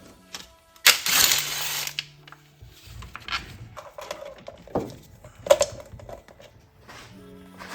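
Ratchet clicks and metallic rattles while 10mm valve cover bolts come off the 2.5-liter turbo four-cylinder engine of a Mazda CX-9, bursts of quick ticking and a clink of loosened metal, close and fairly loud.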